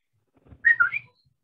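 A short whistled call like one used to summon a child, with two or three quick rising and falling tones in about half a second, clear and alone.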